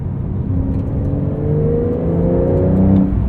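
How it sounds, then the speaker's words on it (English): A 2023 Porsche 911 Carrera T with a manual gearbox shifts into third, its engine note steady and droning as revs rise slowly, loud and close from inside the cabin with no talking. "Going to third, drop our revs a little."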